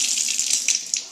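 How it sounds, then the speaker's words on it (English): A single-handle Moen faucet opens so water gushes out in a steady, close hiss, with a few small clicks and spatters near the end. "Next we'll release the water"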